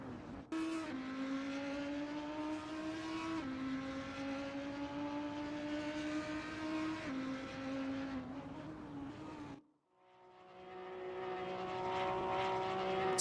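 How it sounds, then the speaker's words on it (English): Several GT3 race car engines drone loudly in a racing video game at Spa, held steady pitches with shifts, then a brief drop to near silence before engines build again, with no talk. "Lights are out, engines roaring, waiting for the green flag."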